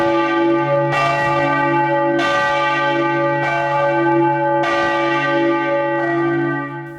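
Church bells peal in the 40-metre bell tower of St. Cantianus church in Kranj, a loud, close melodic ringing with strikes recurring roughly every second and sustained overlapping tones, with no voices.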